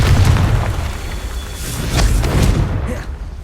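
A deep booming blast from the Confringo fire spell in the video game Hogwarts Legacy, loud and close, with rumbling bursts and crackle that fade near the end.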